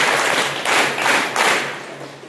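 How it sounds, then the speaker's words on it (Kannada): Audience clapping loudly at a women's meeting, with three bursts of dense applause in a rhythmic pattern, close and strong. "ಒಮ್ಮೆ ಎಲ್ಲರೂ ಜೋರಾಗಿ ಒಮ್ಮೆ ಚಪ್ಪಾಳೆ ಬಡಿಬೇಕು."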